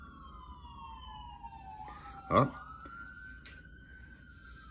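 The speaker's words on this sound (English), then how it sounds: "there go those sirens" A siren wails past at a distance, its pitch sliding down as it goes by, faint under a brief spoken exclamation and steady background noise.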